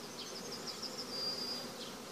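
Honeybees buzz inside the upper box of a hive, a dense, steady drone of many wings with a few brief higher whines rising and fading, with no voices.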